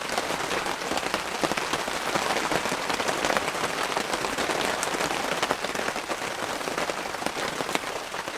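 Heavy rain pours steadily onto a bushcraft camp beside a cozy cabin, a dense, even hiss of drops pattering on surfaces throughout, close and constant with no voices.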